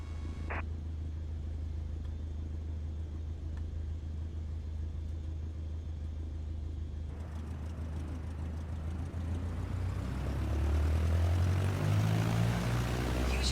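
A light airplane's engine holds a steady rumbling drone at full throttle during the takeoff roll, then swells louder and climbs in pitch in the last few seconds as power builds.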